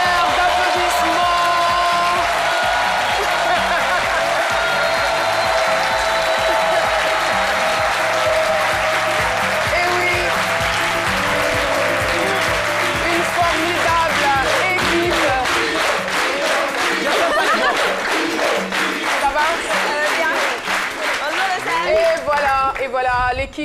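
Loud, sustained applause from a large crowd with cheering and whoops, the clapping becoming more rhythmic and emphatic near the end.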